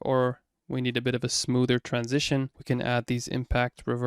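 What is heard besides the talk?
None of the usual background noises is heard.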